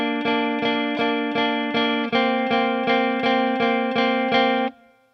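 Electric guitar playing a pop song riff, a steady run of evenly spaced, ringing chord strums with sustained notes, alone and clear, ending with a short fade after the final strum.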